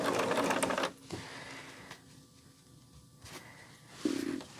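A domestic sewing machine stitches small fabric squares for quilt piecing, running in two brief rapid mechanical bursts separated by a quieter pause.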